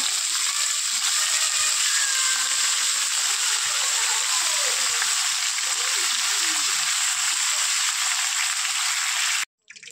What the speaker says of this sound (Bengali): দিয়ে দিলাম তেল। এবার দেব মাংসগুলা ভাজা করব।